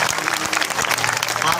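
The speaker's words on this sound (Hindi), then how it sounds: "सभी लोग दोनों हाथ उठा करके ताली बजाकर धन्यवाद दें।" Crowd at a Sanatan Hindu unity padyatra gathering applauding in thanks to a revered spiritual leader, a dense, continuous wash of clapping from many hands, fairly loud and sustained throughout.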